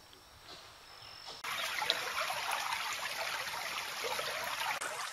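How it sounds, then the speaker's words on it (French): A small river in a forest where orangutans live flows with a steady, broad rushing and trickling wash that starts abruptly and stays loud and close, with no talk over it. "Je suis tombé sur une belle petite rivière, je récolte un peu d'eau"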